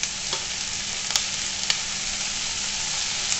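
Tomatoes and softened onion sizzle in a pan while cooking paneer masala, a steady close-up crackle with a few sharp spatter pops and light stirring scrapes, no voices.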